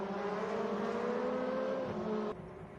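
A race car engine in the RaceRoom racing game holds a steady, loud revving drone during a WTCC round at Shanghai, then cuts down abruptly near the end, with no commentary over it.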